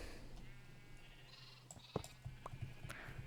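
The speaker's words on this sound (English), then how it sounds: "it's a baby sheep, no less" A baby sheep bleating in Minecraft, a few short soft bleats near the end of a quiet stretch with a low steady hum underneath.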